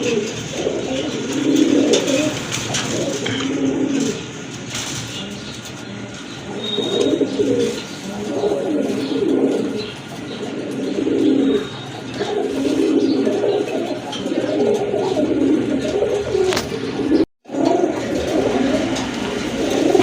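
Several pigeons coo in repeated low, throaty bursts, overlapping in a steady rhythm, close by, with faint chirps in the background.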